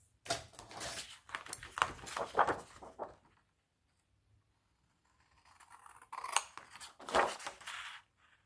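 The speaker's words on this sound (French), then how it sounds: "on va couper." Scissors snip through scrapbooking paper at close range in two bursts of short crisp cuts, separated by a quiet pause of about three seconds.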